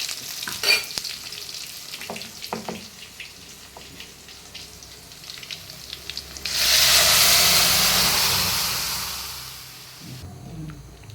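Spices tempering in hot oil for a green gram curry, with light stirring and scraping at first, then a loud, bright sizzle bursting up and fading slowly over several seconds.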